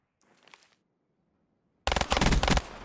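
Video game gunfire: faint distant shots at first, then a sudden loud, close burst of rapid automatic fire that dominates the end, with no talk over it.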